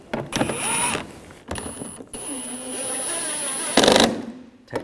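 A power driver tightens screws on a rear parking assist sensor of a 2013-2019 Ford Escape, sounding in several close, loud bursts of whirring with short pauses between.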